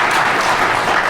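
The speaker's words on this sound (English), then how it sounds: "thanks for the claps there" Audience applause at the DEF CON 20 hacking conference during an EFF panel talk, a dense, steady burst of clapping from a crowd filling the hall, heard alone without talking.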